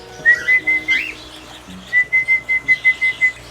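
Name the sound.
person whistling to call cockatiels at feeding time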